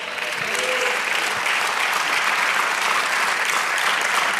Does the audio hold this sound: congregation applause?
yes